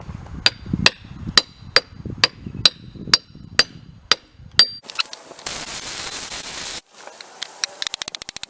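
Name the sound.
hammering a bearing onto a Ford 9 inch axle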